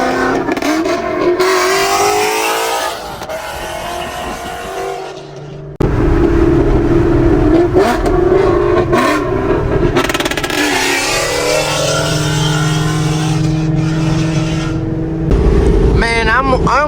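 A Ford Mustang fitted with a loud Borla or Corsa exhaust revs hard and close, its deep roar rising and falling across repeated throttle blips, with a brief lull before it surges again.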